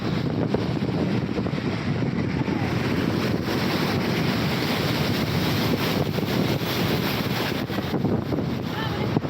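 Rough, churning sea surf at Digha beach, heard as a continuous loud wash of breaking waves mixed with heavy wind buffeting on the microphone, with no clear gaps.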